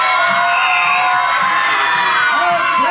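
Aboard a passenger ferry, a crowd of children cheers and shouts together, a loud, sustained burst of young voices with whoops and yells blending into a continuous roar.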